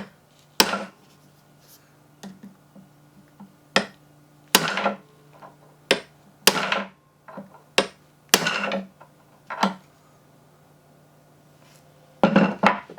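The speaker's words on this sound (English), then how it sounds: "Let's use a chisel. See if maybe we can just split the casing." A chisel prying and striking at the plastic casing of a food processor, a series of sharp, loud cracking knocks and scrapes in uneven bursts separated by quiet gaps, no talk.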